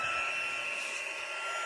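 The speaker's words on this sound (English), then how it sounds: "let's turn on the heat tool." A heat embossing tool runs during card-making with embossing powder, giving a steady, loud, airy whir with a constant high whine that holds unbroken with no voices.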